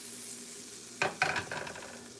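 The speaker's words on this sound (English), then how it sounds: "Kind of let this simmer down" Food simmers in a pan holding chopped whole banana and peaches. A soft, steady sizzle runs throughout, joined after a second by a few sharper clatters and scrapes of stirring, with no talk.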